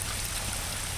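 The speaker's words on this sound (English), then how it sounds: "I'm just going to add a little bit of water to this guy so it doesn't suck dry" Water pours steadily into a garden pump to prime it, a continuous close splashing rush with no break in level and no voices.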